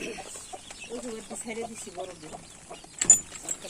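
Chickens cluck in a coop, a string of short, close, nasal calls over about three seconds, followed by a brief louder flutter or bump near the end.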